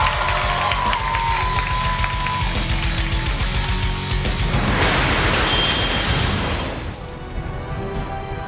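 Loud crowd cheering and applause at a 2014 Cyphers team esports tournament semifinal, rising to a dense burst midway before easing, with an announcer's voice and arena noise throughout.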